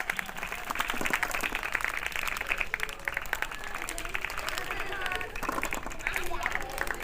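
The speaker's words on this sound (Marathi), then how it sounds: "टाळ्या वाजवा एकदा युएससाठी आणि बिलालसाठी जोरदार टाळ्या वाजवा" Applause for children at a school ball competition, scattered clapping from a crowd running steadily underneath a loud voice speaking over it.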